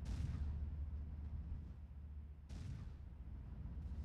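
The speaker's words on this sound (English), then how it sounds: "Something's shooting and I don't know what's shooting." Gunfire from units in the strategy game Nomads, two heavy booming blasts about two and a half seconds apart, each followed by a low rumbling decay.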